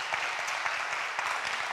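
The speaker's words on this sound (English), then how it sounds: "So give him a round of applause." Short burst of applause from a church meeting audience for the camera operator, quiet and steady clapping for under two seconds.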